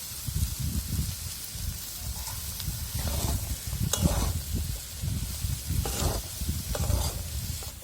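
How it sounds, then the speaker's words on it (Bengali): Bengali ghugni masala with ginger paste and chili powder sautéing in a pan, a close crackling sizzle broken by irregular stirring scrapes and bursts of louder spitting throughout. "এবার একটু ভালো করে কষিয়ে নেব।"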